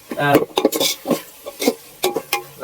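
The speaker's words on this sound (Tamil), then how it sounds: "வெங்காயம் எல்லாம் போட்டு எல்லாம் தாளிச்சு விடுறேன்" Onion is tempered in hot oil with mustard seeds, curry leaves, tomato, chili, ginger and garlic for a fish curry. Quick metallic stirring clinks and scrapes on the pan come close up, with a brief voice in between.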